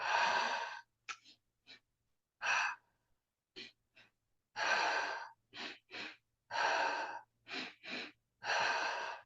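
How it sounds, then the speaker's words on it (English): Breathwork breathing in a guided morning meditation, with loud close breaths coming in a repeating pattern of quick double inhales followed by longer, forceful exhales, and short silent gaps between them. "Breathing in and out. Double inhale,"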